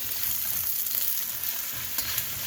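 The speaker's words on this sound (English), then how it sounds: "we want to stir fry this for about" Zucchini stir-fries with smoked paprika in a hot pan, giving a dense, steady sizzle at close range with no talk.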